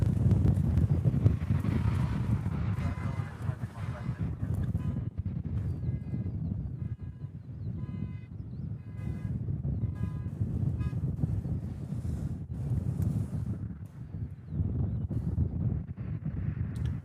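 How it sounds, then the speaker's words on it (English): Wind buffets the microphone at a Honolulu airport planespotting spot, a steady, loud, low rumbling roar that runs throughout with gusty swells and no speech. "Jeez, wind."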